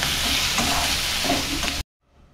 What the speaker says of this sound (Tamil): இந்த பீட்ரூட் வந்து நல்லா எண்ணெயிலே வதக்கிக்கலாம்